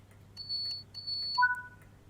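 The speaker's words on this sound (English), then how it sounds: "Ah, is that the driver to guard buzzer down there, is it?" Driver-to-guard buzzer in the Train Sim World 5 cab of a Class 87 "Tap Changer" electric locomotive: clean electronic beep tones, several short pulses followed by a lower two-tone signal, heard alone over a low hum.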